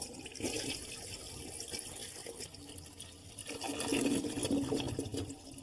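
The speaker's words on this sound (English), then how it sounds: "To remove the water from the tank, we want to flush it." Water-saving toilet flushed to empty its tank, a close rushing and gurgling of water that swells in the second half and keeps draining.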